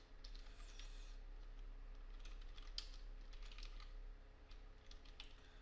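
Soft, rapid typing on a computer keyboard, an irregular patter of light key clicks running throughout over a low steady hum, with no voices.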